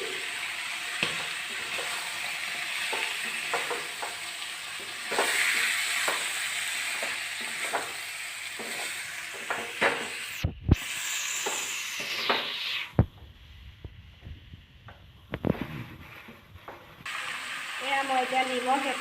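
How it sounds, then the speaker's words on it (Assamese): Spiced duck meat frying in a pan, with a steady loud sizzle and repeated scraping stirs; the sizzle briefly cuts out and returns, and a voice talks over parts of it. "মছলাখিনি এড কৰি দিলোঁ। ভালদৰে লৰাই দিছোঁ।"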